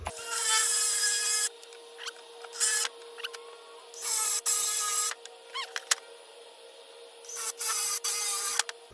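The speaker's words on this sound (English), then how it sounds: "now I'm going to drill the rest of my holes, countersunk holes" A drill boring countersunk holes in wood, several bursts of high, gritty cutting noise separated by pauses and small clicks, close and fairly loud against a steady hum.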